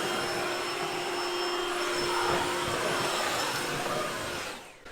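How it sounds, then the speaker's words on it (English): A KRESS commercial battery-powered backpack leaf blower runs at full power, a loud continuous rushing whoosh with a steady whine, dropping off sharply at the very end, no speech. "Tons of power, just like a gas backpack blower."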